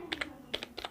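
Keys clatter on a computer keyboard while values are entered into a C program, three quick pairs of crisp clicks spaced across under a second, close and fairly quiet with no talking.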